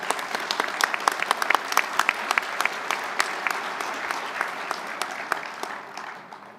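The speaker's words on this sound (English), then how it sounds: "Let's give these motivated sailors a round of applause" At a luncheon keynote event, a crowd gives a round of applause for honored sailors: many hands clapping in a full, sustained burst that holds steady, then thins and fades near the end.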